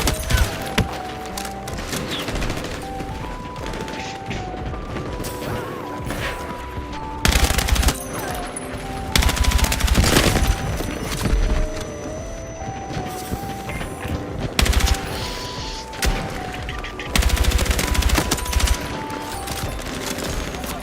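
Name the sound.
gunfire in a first-person shooter video game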